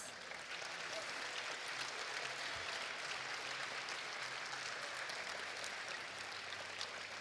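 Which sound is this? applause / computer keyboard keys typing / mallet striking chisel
applause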